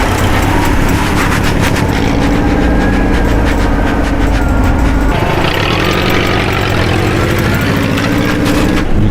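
An air-cooled V4 engine running on LPG, loud and steady at close range, with a continuous low mechanical drone and rattle that holds throughout.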